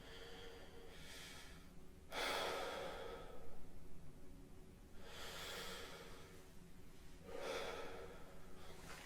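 A person doing a relaxed breathing exercise for singing draws close, audible breaths and lets out long, soft airy exhales, three slow cycles with quiet pauses between.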